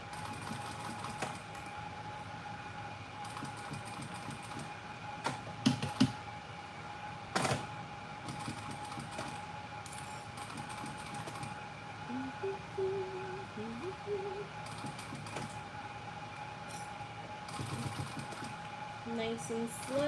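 A sewing machine stitching leather for a bag runs slowly and steadily at low level, with a soft whirring hum, occasional clicks and light knocks as the material is handled.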